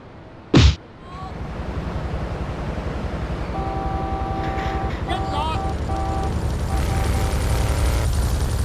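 A helicopter in Grand Theft Auto 3 spins up after a sharp burst, its rotor drone and engine whine growing steadily louder and holding close in the foreground.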